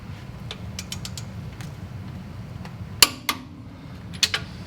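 A wrench creaks and clicks as it torques the lower ball joint on an Early Bronco steering knuckle, a faint mechanical grind followed by a few sharp metallic clicks near the end.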